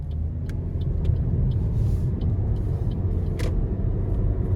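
A 2019 Toyota Corolla LE accelerates out of a corner, heard from inside the cabin as a steady low engine and road rumble with a few faint ticks and clicks.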